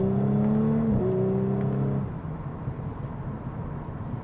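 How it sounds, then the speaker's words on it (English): A 2019 Audi S5's V6 engine, 80k miles, revs hard, its pitch stepping up once, then cuts back to a quieter, rougher idle. "Just a fantastic sounding V6 from Audi here."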